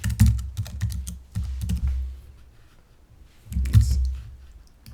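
Someone types a password on a computer keyboard: two close bursts of quick key clicks with a short quiet gap between them, and no talking.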